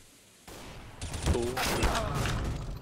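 A burst of rapid gunfire in a competitive shooter match, loud, dense shots packed into under two seconds, with players talking over the action.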